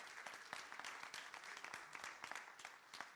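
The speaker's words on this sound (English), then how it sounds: "So a big round of applause to all the fellows." Applause from a conference audience honouring programme fellows, a dense, steady patter of many hands clapping at moderate distance, fairly quiet throughout.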